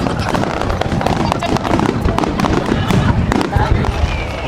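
Fireworks explode at a celebration, a dense run of crackling bursts and pops under excited talking and cheering from people nearby.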